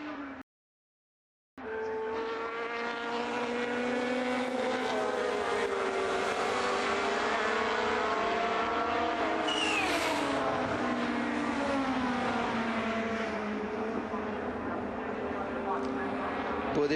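A Formula Master race car runs flat out in sixth gear through a long fast curve at Brands Hatch. A sustained, high, whining engine note holds near full volume with slight pitch sweeps, and a commentator talks over it.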